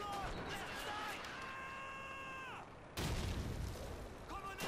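Grenade blasts in the World War II shooter Call of Duty 2, a loud booming burst cutting in midway over dense game battle noise with electronic tones and voices.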